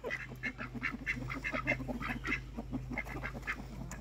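Farm ducks quack repeatedly in a close, busy chorus, overlapping calls in quick succession against a steady low background hum, with no voices.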